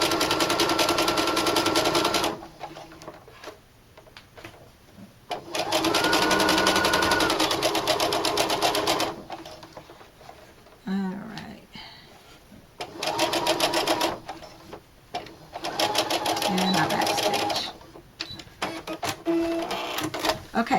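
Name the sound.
sewing machine stitching a fringe bag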